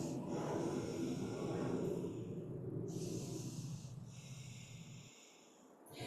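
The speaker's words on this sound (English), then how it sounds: "you might be also finding some Ujjayi breath, and that's this HA" Slow audible nasal breathing with the mouth closed during a yoga vinyasa flow, long rasping inhales and exhales up close and quiet, with no talking.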